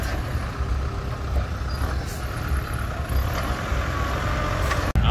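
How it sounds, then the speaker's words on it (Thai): A ten-wheeler dump truck drives past with a steady rumbling engine roar and a loud, continuous road noise, close by, ending with a sharp brief thump. "สิบล้อก็มาครับสิบล้อก็มี"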